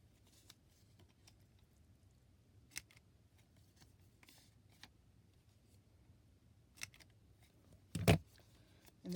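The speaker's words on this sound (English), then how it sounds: "I'm just going to pop it into my 1/4 inch rounder and cut it that way" A quarter-inch corner rounder punch clips the corners of paper during a card-making project, with a few faint, sharp snaps spread apart and one louder crunching cut near the end over quiet room noise.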